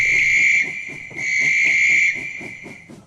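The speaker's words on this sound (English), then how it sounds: "That sounds like a guard's whistle" A steady, shrill guard's whistle on a steam railway sounds as a sustained high tone that dips briefly, swells again, then fades out, heard alone without speech over a soft rhythmic chuffing underneath.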